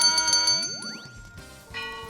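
A golden bell ringing effect on a TV stock-investment show, heard as a bright chiming jingle with a rising sweep in the middle, followed by a second shimmering bell flourish, all with no talk.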